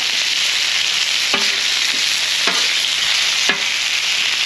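Shark meat and vegetables sizzle in oil on a hibachi grill, a steady close frying hiss broken by three evenly spaced scrapes of a spatula stirring the food.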